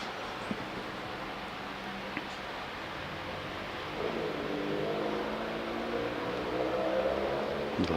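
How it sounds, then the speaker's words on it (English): A loud car drives away in the distance near a cricket ground during a county match, its engine a low, steady rumble that swells midway and then fades under the outdoor background noise. "With a loud car in the distance, disappearing off"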